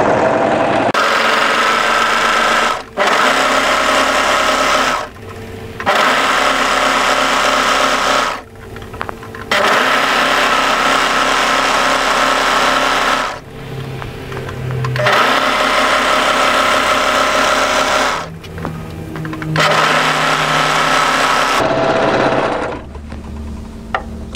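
A sewing machine stitches the facing of a cami garment in long loud whirring runs, stopping and restarting several times with short pauses between bursts, no talk.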